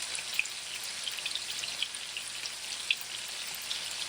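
Fried rice with meat, garlic and onion powder cooking in a pan at home, giving a steady close sizzle with scattered little pops and crackles throughout, no talking.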